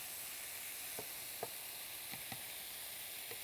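Country ham frying and browning in a pan, giving a faint, steady sizzle with a few soft pops and crackles scattered throughout.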